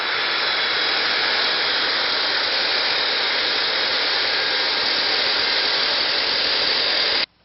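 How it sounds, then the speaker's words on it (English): Sanding the end of a laminate countertop produces a loud, continuous, hissing power-sander roar up close that runs unbroken and then cuts off abruptly at the end, with no talking. "it's time to sand the end of the countertop that's going to get an end cap"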